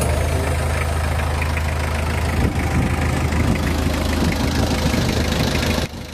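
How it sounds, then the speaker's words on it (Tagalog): A loud, steady Mitsubishi L300 van engine idles close by with a constant low rumble and rattling texture, dropping slightly in level near the end. "I-start ko na itong makina mga boss."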